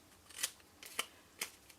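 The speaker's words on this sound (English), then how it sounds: "I'm going to use a smaller pair of scissors on this" Small scissors snip through floral paper for a two-inch lidded cube box, with three or four crisp, close cuts spaced about half a second apart in a quiet room.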